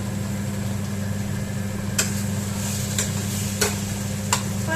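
Potatoes frying with spices in a pan get stirred now and then, a steady low sizzle hum broken by a few sharp scrapes and clicks of the spoon.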